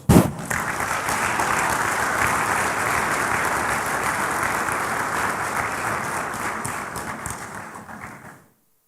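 Sustained applause from voting delegates at the 33rd AFC Congress 2023, steady and full across the hall with no break, then cutting off abruptly near the end.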